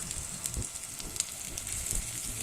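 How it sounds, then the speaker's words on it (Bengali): Chopped onion, garlic and a little ginger hit hot oil in a kadai just used for frying fish, producing a steady hissing sizzle with scattered sharp crackles and pops throughout. "ওই কড়াইয়ের মধ্যে তেলে দিয়ে দিচ্ছি পেঁয়াজ কুচি রসুন কুচি আর অল্প একটু আদা"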